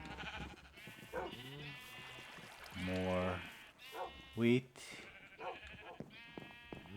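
Sheep of mixed colors bleat in a Minecraft farm village, a few short, wavering cries rising clearly above a voice talking over game ambience.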